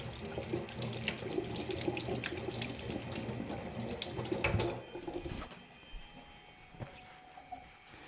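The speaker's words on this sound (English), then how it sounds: "I'm just going to rinse my hands again just to make sure I have no chocolate on them" Water runs steadily from a tap as hands are rinsed at a sink, then the flow is shut off partway through, leaving a few small clicks and drips in the quiet that follows.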